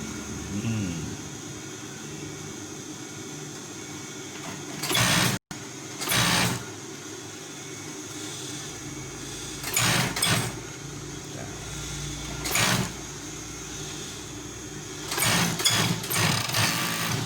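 Overlock sewing machine stitching a V-neck collar in quick separate bursts, each a loud mechanical whir lasting about a second, with quieter pauses of background noise between them.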